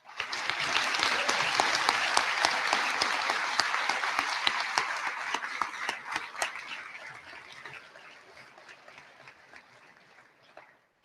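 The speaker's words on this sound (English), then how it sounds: "Please give all the teachers present a round of applause." A graduation audience at Bellevue High School applauds the teachers with loud, dense clapping that holds steady for several seconds, then gradually thins out and fades.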